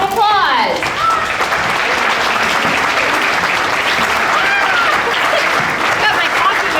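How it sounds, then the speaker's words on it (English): An audience claps in loud, sustained applause for a special guest, a dense steady patter lasting several seconds, with a voice talking over it. "Let's give Carmen a big round of applause"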